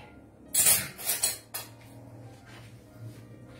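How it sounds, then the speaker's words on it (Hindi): Spoon clinks and scrapes against a metal pan as ground green chili and ginger paste is added, a few bright close clatters in the first second and a half, then quieter. "ये मैंने हरी मिर्च को बहुत जरा सी अदरक के साथ पीस के रखा है, तो ये डालूंगी मैं"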